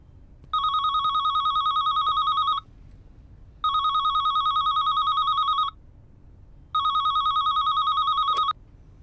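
A telephone rings in a home: three long electronic ring bursts separated by short pauses, loud and steady with no talking over them.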